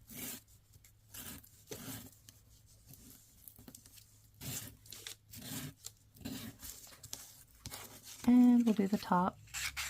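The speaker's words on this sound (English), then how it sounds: "it's easier for me if I do my edges that way when I'm sanding anyway." Paper edges are sanded by hand while making a zig zag folio book, with short repeated scratchy strokes in rhythmic bursts and a brief spoken remark near the end.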